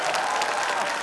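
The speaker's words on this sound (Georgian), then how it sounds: "აპლოდისმენტები უნდა მათ" Audience applauding a children's ensemble, a dense continuous wash of clapping, loud and close, with no gaps in the brief burst.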